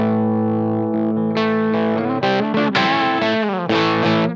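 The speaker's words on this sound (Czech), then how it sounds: "Tohle je vlastně zvuk a la Marshall JTM 45 nebo tak něco." Electric guitar played through a BluGuitar Amp1 dialed to a Marshall JTM45-style tube tone: loud, driven chords and ringing notes with crunchy distortion and sustain, changing every second or so, with no voices.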